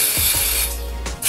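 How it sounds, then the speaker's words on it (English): A coconut-scented quick-dry spray for nail polish hisses out of its can in short bursts, with a gap and a final longer spray at close range and no talking. "I'm gonna just like spray it and see what happens."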